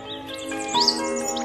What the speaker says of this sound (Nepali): बसाइ सरेर आउने चराहरूको बथानले आरक्षलाई अझै सुन्दर र